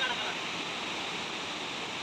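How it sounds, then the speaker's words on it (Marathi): Ranpat waterfall on a forest trail near a railway track gives off a dense, unbroken roar of falling water, steady and fairly loud throughout. "धबधब्याचा आवाज येतोय।"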